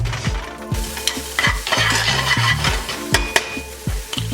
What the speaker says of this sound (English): We're actually gonna quickly just sweat down the shallots and throw them into our mixture.